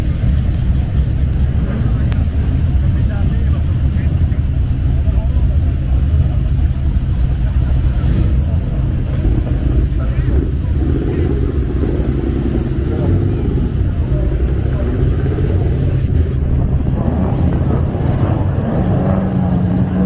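A Ford Anglia race car's engine at a Finnish motorsport event, droning and revving continuously at close range with a constant rumble, while someone talks over the noise.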